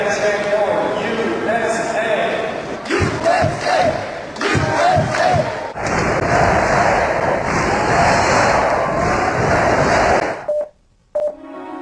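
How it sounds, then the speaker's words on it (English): A crowd of about 4,000 film extras chanting "USA" in unison, a loud, massed roar of voices rising in rhythmic pulses, with a brief drop near the end. "When we get that chant going,"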